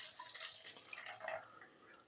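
Water is poured into a plastic paint mixing cup, a quiet trickling splash that runs steadily for about two seconds with soft dripping and no voices.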